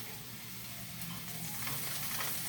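Oil sizzling steadily in a pan as water spinach is sautéed for adobo, a soft continuous hiss with faint stirring, quiet and unbroken.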